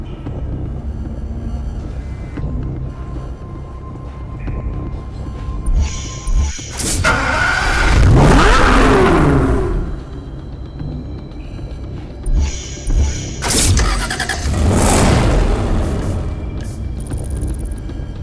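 Aston Martin One-77 supercar engine in Need for Speed Hot Pursuit Remastered cranking to life with a loud boom, then revving in rising and falling rumbling surges, and another strong rev burst toward the end, no voices.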